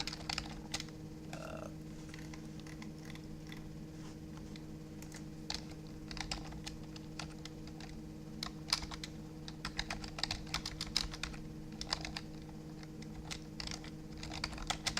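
Quick bursts of clicking keystrokes on a computer keyboard while a command is typed in a Kali Linux terminal, close and fairly quiet over a steady hum, with no talking.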